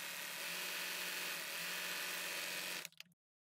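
A serger sewing ruffles into knit fabric runs in a steady, close, loud mechanical whir at 6.5 differential settings on both needles, then stops abruptly near the end.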